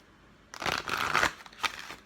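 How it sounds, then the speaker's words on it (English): Angel and tarot cards shuffled by hand: after a short silence, a dense papery riffle starts abruptly, runs for under a second, then breaks into a few quick softer flicks, close and alone. "Let's pull some cards."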